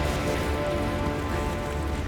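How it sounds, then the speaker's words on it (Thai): Steady rain in a dark level of the Battlefield V video game, a dense continuous patter with a low rumble that holds constant throughout. "แต่มันมืดใช่ปะมันฝนตก"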